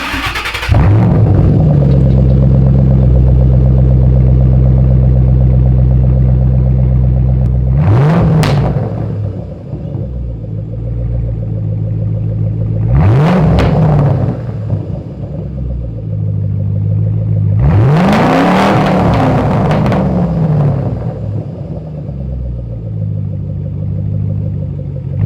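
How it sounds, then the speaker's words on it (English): A Ford Mustang GT500 fitted with a Flowmaster Outlaw exhaust starts up and idles loudly up close, then is revved three times in rising, booming blips that settle back to a deep, steady idle. "Let's just give it a couple minutes first, and then we'll give it some revs."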